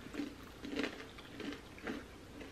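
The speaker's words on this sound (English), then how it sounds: "And then chew." Mopane worms being chewed close to the mouth, a few soft, wet, crunchy bites spaced about half a second apart, quiet and alone without talking.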